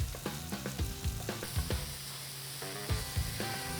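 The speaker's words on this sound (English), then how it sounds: "If you let the cheese melt like this, it becomes a chicharrón de queso or a costra de queso." Cheese sizzles and fries in a hot pan as it melts into a crisp crust for quesadillas, a steady close hiss broken by crackles and a few scraping stirs, with no talk.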